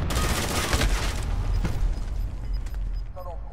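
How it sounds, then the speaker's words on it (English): A rocket launcher fires and explodes in Call of Duty: Modern Warfare, a loud blast and rumble at the start amid ongoing gunfire and mechanical clatter, with a voice talking over it. "I don't know who I hit with that rocket"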